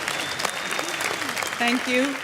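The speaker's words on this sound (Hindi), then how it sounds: "जोरदार तालियां।" Audience applause at a Bollywood awards ceremony crackles steadily at moderate loudness as an actress accepts her award, with someone speaking briefly over the clapping.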